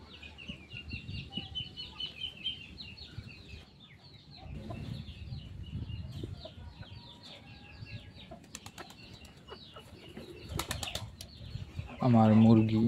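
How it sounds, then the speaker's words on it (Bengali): Free-ranging country chickens, a rooster and pigeons cluck and coo, with bursts of wing flapping and a loud flutter near the end over a busy outdoor backdrop and a faint voice. "আমার মুরগি, মোরগ প্লাস কবুতর"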